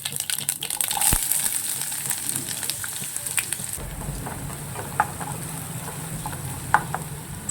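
Onions sautéing in coconut oil in a pan crackle and sizzle close by, with scraping stirs and a few sharp clicks as the frying settles into a lower, steady hiss.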